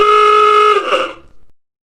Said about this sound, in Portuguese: É o som da buzina do carro.